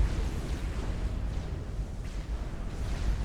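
A support commander unit blows up in Supreme Commander, heard as a distant muffled explosion within a dense, continuous low rumble of battle fire.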